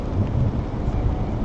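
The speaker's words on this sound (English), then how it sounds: "It's raining." Steady rain pours down during a city walk in Nagoya, Japan, a dense even hiss with low rumbling underneath that suggests distant thunder, with no talking.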